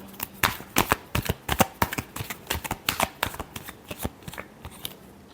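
A deck of tarot cards shuffled by hand, close up: quick papery riffles and taps in a lively, uneven rhythm lasting about five seconds, with no voice over it.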